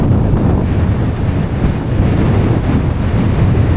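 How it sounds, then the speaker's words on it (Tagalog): Strong typhoon wind roars across the microphone while waves crash on the shore at Dinahican, Infanta, Quezon, a loud continuous buffeting rush with surf underneath and no voices. "Bagat pa hangin, nahila pa ito ng bagyo no."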